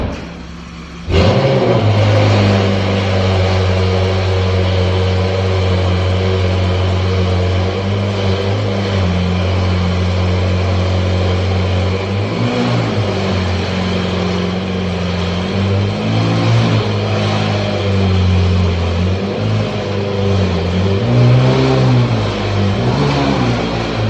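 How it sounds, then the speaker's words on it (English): A Lamborghini fires up from a cold start, its engine catching with a sudden loud burst and then holding a deep, steady, close idle with a few rising revs near the end. "That car's no joke on the cold start."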